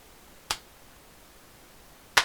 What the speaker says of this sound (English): Okay, everybody take your claps back just to give him a slow clap.